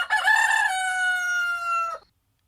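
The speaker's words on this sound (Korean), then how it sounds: "할아버지는 분명하게 닭의 울음소리를 듣는다." A rooster crows once, loud and close, a long rising-then-sustained cock-a-doodle-doo lasting about two seconds, then silence, used as a sound effect within a narrated story.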